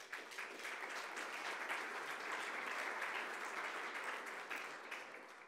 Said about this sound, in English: Let's have another round of applause for her.